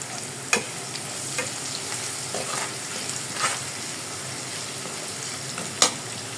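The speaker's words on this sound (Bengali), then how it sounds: "পেঁয়াজটা ভাজা হয়ে গেছে" Onions fry in a pan with whole garam masala, cloves and salt, giving a continuous gentle sizzle broken by a few sharp spoon clicks and stirring scrapes, close and fairly quiet.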